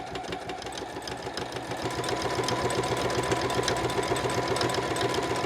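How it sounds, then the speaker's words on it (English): A sewing machine stitches a vinyl project bag with fast, even mechanical chatter, starting slowly and then running at a steady pace, close and clear with no talking. "I will slowly start, but I am not going to backstitch until I get back to where I started."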